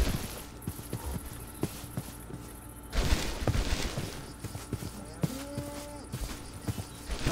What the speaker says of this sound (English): even the cow sounds scary